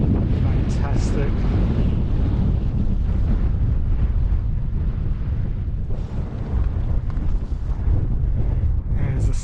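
Strong wind buffets the microphone on a clear, chilly mountain summit, a loud continuous low roar with gusty surges throughout.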